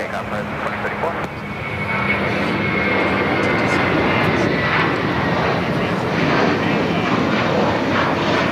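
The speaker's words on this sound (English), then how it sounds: "runway 25 right, clear for takeoff" A jet airliner taking off from runway 25 right at LAX, a loud engine roar that swells after a second and holds steady and close throughout, with radio talk over it.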